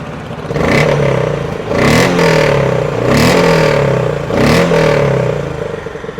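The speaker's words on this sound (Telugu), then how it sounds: "ఎగ్జాస్ట్ నోట్ అయితే మాత్రం లైన్ రోరింగ్ లాగా ఉందన్నమాట" A Honda CB 350 motorcycle engine revs repeatedly, about four throaty bursts rising and falling in pitch, loud and close with a rumbling exhaust between blips.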